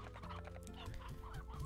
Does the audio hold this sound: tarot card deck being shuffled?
no